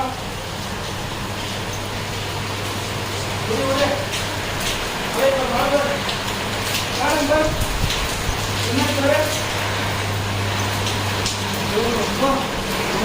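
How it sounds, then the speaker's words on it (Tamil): Steady rain hiss fills the background while several people talk over it, with a low hum running underneath for most of the time. "மழை பெய்யுது"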